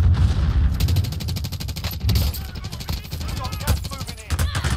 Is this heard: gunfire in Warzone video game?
yes